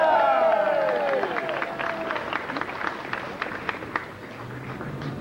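Audience applause at Ray Harryhausen's Hollywood Walk of Fame ceremony: a steady wash of clapping from a crowd, with a few voices and whistle-like cheers rising at the start and continuing at an even level throughout.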